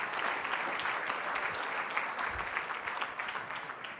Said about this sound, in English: let's give a big round of applause to our finalists